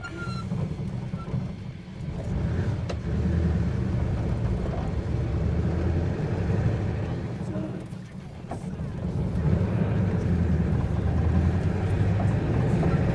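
An old 1947 vehicle with a freshly rebuilt transmission drives along in second gear, its engine a steady, low rumbling drone that dips briefly and then swells again, heard from inside the cab. Someone talks over the engine at times.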